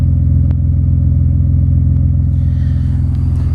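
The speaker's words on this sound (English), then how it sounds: "Exhaust note sounds great." A supercharged 1997 BMW E36 M3 coupe runs with a steady, loud, deep exhaust rumble at a constant idle, close by and alone throughout.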